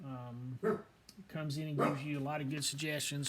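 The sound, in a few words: dog barking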